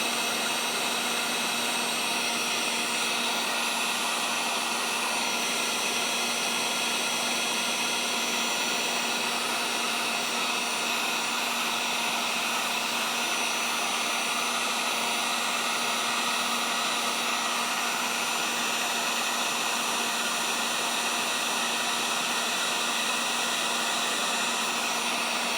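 A hot air heating tool blows steadily to melt solder on a part from a Gilbert long-drop octagon clock, a loud constant rushing hiss with a faint hum beneath and no speech.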